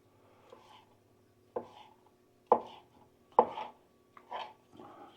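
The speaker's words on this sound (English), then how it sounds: "I then cut the sausage down because this is going into a salad." A knife cuts through sausage on a board for a salad, making about five separate chopping thuds at irregular intervals, close and fairly quiet.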